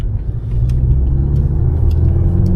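A Volkswagen Golf 7 GTI with a Stage 1 tune drones steadily up close, its low rumble shifting pitch slightly as the automatic transmission downshifts, with no voices.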